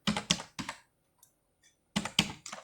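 Computer keyboard typing values into an Excel sheet: two bursts of quick, close key clicks separated by a short pause, clear and alone.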